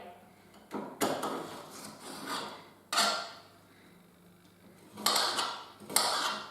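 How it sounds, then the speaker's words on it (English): A knife chops red pepper on a cutting board in a handful of faint, irregular cuts and scraping strokes, separated by quiet pauses. "And cut it into small pieces like that"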